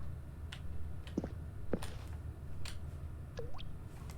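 Water drips inside the video game The Stanley Parable, a few separate plinks spaced irregularly over a low steady background hum, each drop short and fairly close.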